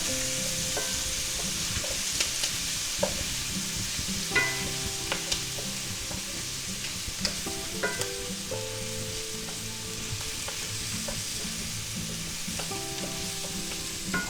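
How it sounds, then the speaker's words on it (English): Shrimp and minced garlic stir-frying in a hot pan for chow mein, a steady close sizzle with scattered scraping and clinking of a utensil against the pan, no talking. "Stir fry that up."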